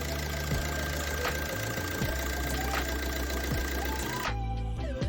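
A Maruti Suzuki Swift diesel engine, just fitted with new glow plugs, runs at a steady rough idle with a knocking rumble, close and continuous, its tone shifting abruptly near the end.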